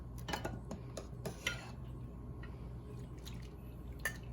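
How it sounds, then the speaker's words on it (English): Broth with onion, bay leaves and whole cloves being strained, heard as a series of close drips and liquid spatters with a few metallic pot and utensil clinks, then quieter dripping. "Now you strain the broth"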